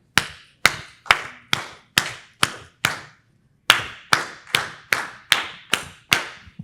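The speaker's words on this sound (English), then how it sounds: "It's Twinkle Twinkle Little Star. So ready? I'll clap it again." One person claps the rhythm of Twinkle Twinkle Little Star with sharp, close hand claps in a room. There are seven evenly spaced claps, a short pause, then six more, heard alone without talk.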